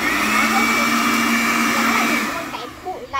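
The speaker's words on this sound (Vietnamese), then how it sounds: "Đây là một cái máy hút bụi đa năng anh em nhé, xài điện trực tiếp 220V này" A multi-purpose 220V mains-powered vacuum cleaner runs with a loud, steady whine and whirring drone, then winds down near the end as the motor is switched off.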